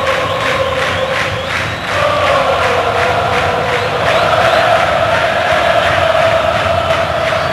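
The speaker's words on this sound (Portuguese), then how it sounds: "Se empolga primeiro a torcida do Botafogo." Botafogo supporters roaring and chanting in a packed stadium during the 2008 Carioca final against Flamengo, a loud sustained crowd swell with rhythmic pulsing chants building in intensity.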